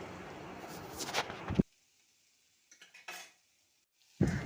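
Chopped snake gourd fries in oil in a pan, a soft sizzle with stirring and a clink of a utensil, broken by a long quiet gap before the sizzling resumes.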